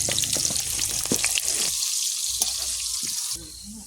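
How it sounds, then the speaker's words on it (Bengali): Potatoes frying in a pan for a chicken curry, a bright hiss of hot oil with a few clinks and stirring scrapes, easing off toward the end. "এবারে মাংসের আলু ভাজছি"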